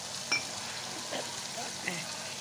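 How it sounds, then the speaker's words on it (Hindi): Garlic ginger paste and spices fry in a pan with a soft, steady sizzle and occasional stirring scrapes, heard close and continuous. "मैं इसमें लहसुन अदरक का पेस्ट डालकर इसको थोड़ा सा भूनूंगी"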